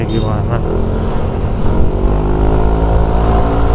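A Yamaha NMAX scooter with a 60 mm bore-up and an aftermarket exhaust idles and revs nearby, a loud, continuous engine drone with a low rumble, while someone talks over it.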